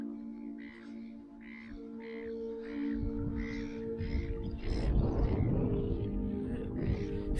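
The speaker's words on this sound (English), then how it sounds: "Some sort of big, I don't know, black birds up here, not sure what they are." Large black birds, crows, caw repeatedly in a steady series of harsh calls, moderately close, over a low outdoor rumble at a waterside spot.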